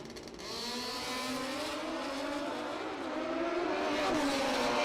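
Pro ET drag racing motorcycles at the ManCup World Finals launch and scream down the strip, a continuous high-pitched engine whine with climbing harmonics that grows slightly louder toward the end, no talk.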